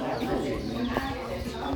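Chickens cluck and murmur in a busy outdoor setting, with people talking nearby over the steady background.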